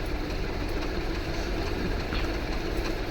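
Steady rumble and clatter of a moving train, a continuous loud broadband roar from close inside with faint rattling, no pauses.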